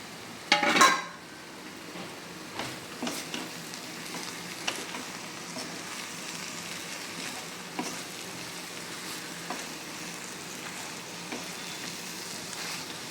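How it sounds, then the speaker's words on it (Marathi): Okra tossed into hot oil and yogurt masala, a sharp burst of sizzling at the start that settles into a steady fry, with occasional spatula scrapes and clinks against the pan. "आता आपण याच्यात भेंडी टाकू"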